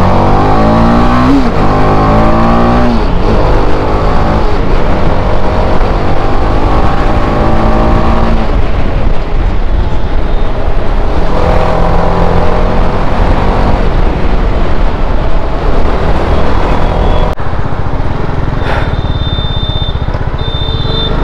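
A motorcycle engine revs loudly and continuously on a long night ride, rising and falling in pitch through gear changes, close and dominant throughout.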